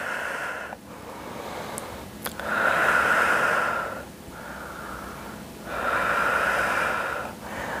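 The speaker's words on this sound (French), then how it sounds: "Inspire, expire. Inspire, expire." Slow, deliberate breaths in and out during a muscle-strengthening workout, each airy breath lasting a couple of seconds in a steady rhythm, close and clear with no talk.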